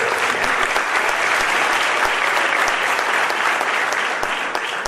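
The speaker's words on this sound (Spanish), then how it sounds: "eso merece un aplauso para ustedes" An audience at a teacher training talk claps steadily, a dense, even wash of applause that holds for several seconds and barely fades at the close.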